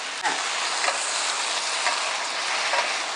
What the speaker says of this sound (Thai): ใช้ตะหลิวนะคะ กดให้เส้นใหญ่โดนกระทะค่ะ